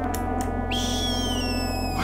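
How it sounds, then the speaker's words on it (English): High, wavering squeals from birds in the video game Magic Carpet Plus, a continuous shrill whistling tone rising and gliding over a steady droning game background, loud and close with no speech. "There's a desperate squealing happening somewhere."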